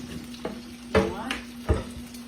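Green tomatoes frying in a pan on slightly above medium heat, a soft steady sizzle with a few sharper clinks and bumps from handling, nearby and moderately quiet.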